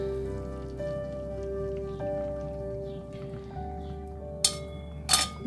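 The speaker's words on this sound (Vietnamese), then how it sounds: "bây giờ mình bỏ trứng gà mình đun mình chiên." Eggs fry in hot oil in a pan over a low flame, giving a soft, steady crackling sizzle under a faint hum, with two brief sharper clinks near the end.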